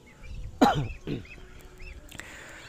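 Muscovy ducks give a couple of hoarse, breathy honking calls close by, followed by fainter chirping and rustling in the background.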